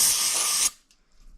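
Carb cleaner sprayed onto a 1983 Yamaha Bravo 250cc snowmobile carburetor, one loud, close, steady hiss lasting under a second that stops abruptly, leaving near silence.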